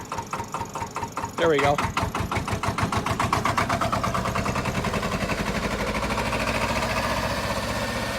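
A Porsche Diesel Standard two-cylinder tractor engine catches and runs, its rapid, even knocking beat climbing into a steady, fast chug up close, with a voice speaking briefly over it.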